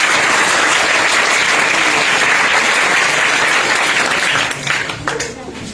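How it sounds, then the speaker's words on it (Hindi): Loud, sustained applause fills the hall at a motivational talk, a thick wash of clapping from a large audience that holds steady and then tapers off near the end. "चाहूंगा कि सर के लिए, इंस्टीट्यूट के लिए, आप अपने लिए जबरदस्त ताली पहले बजा लीजिए।"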